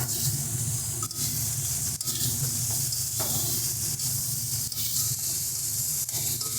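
Chopped tomatoes hit a hot pan of dried fish and flat beans, setting off a loud, steady sizzle and hiss that runs without a break, close up, with no voices.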